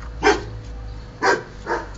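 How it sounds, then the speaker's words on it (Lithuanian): A dog in the courtyard of a residential building barks three times, fairly close and loud, with short gaps between the barks. "O ten yra šuo"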